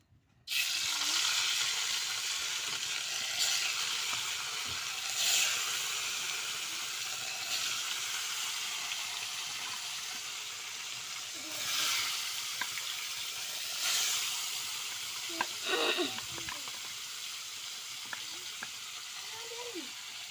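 Salted, turmeric-rubbed rohu fish pieces fry in hot oil, a steady loud sizzle running unbroken throughout with occasional crackles and spits and a few faint clinks of a utensil near the end.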